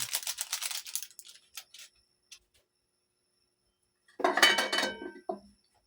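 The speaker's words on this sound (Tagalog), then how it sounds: "Haluin natin." A utensil scrapes and clinks against a pot while seasoned odong, a Filipino noodle dish, is stirred, heard in two short bursts with a quiet gap between them and no talking.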